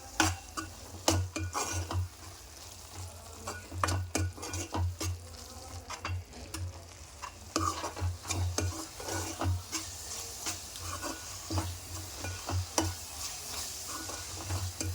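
Spices and coriander powder are stirred into a cauliflower egg curry in a pan. A spoon scrapes and clinks steadily against the pan over a continuous close sizzle.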